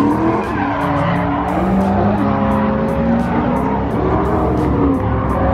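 A Haruguchi FC RX7 drift car screams loudly at a state-versus-state drift battle, its engine roaring while the tyres squeal and skid continuously close by.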